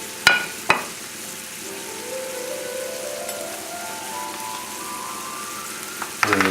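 Head-on shrimp hit a pan of reduced wine and sizzle steadily at close range, with a couple of sharp clacks at the start and a clatter near the end.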